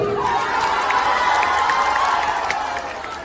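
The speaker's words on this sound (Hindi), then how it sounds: "ਹੁਣ ਤਾੜੀ ਮਾਰ ਦਿਓ" A crowd claps and cheers at a live Punjabi music performance. The dense, continuous roar of hands and voices holds steady for a few seconds before easing slightly, with no talking over it.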